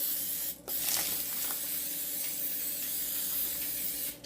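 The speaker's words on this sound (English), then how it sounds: "now I'm going to just give it one quick spray with cooking spray so my seasonings will stick." Cooking spray hisses steadily onto frozen vegetables from close range, with one brief pause early on before the spray continues.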